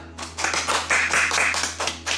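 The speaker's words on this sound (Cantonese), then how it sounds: "快啲掌聲過嚟，媽咪。" A short burst of hand clapping from a small group, quick and fairly close, over a low steady background hum.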